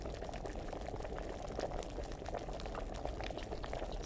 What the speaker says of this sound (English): Make sure it's really boiling.